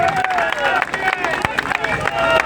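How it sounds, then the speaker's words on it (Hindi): A crowd claps for Ajit Singh Rana, a BJP district president, at a show-of-strength rally: dense, steady clapping mixed with crowd noise, voices and a tonal background. "तालियां बजाओ अजीत राणा जी के लिए।"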